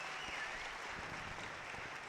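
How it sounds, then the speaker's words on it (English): Audience applause for climber Nalle Hukkataival, a dense, steady wash of clapping from a crowd that holds at an even level for about two seconds. "give a huge round of applause for Mr. Nalle Hukkataival"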